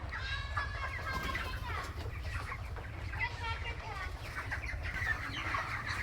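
Chickens cluck and chatter throughout a poultry farm in Goshairhat, Shariatpur, a busy overlapping flock sound near and moderately loud, with a rooster-like call among them and faint background voices.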